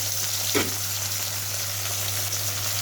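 Potatoes frying for aloo bhaji in a home kitchen, a close, constant hiss of sizzling oil over a low steady hum, with one brief scrape or stir near the start.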